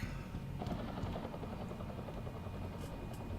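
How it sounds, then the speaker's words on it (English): A helicopter in Deus Ex: Human Revolution drones as a continuous low rotor rumble with a faint chopping pulse, steady and fairly quiet in the background, with no speech over it. "Helicopter?"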